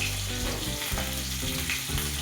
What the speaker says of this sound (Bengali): আগে থেকে কেটে রাখা ওই আলুগুলোও দিয়ে দিল, দিয়ে সব কিছু ভালো করে একটু ভেজে নিচ্ছে